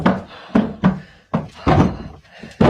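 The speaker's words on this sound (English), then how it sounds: "They probably just banging on the door or behind them" Several heavy thuds land irregularly against a door in a reputedly haunted house, some loud and booming, others duller, with faint breathing or voices in between.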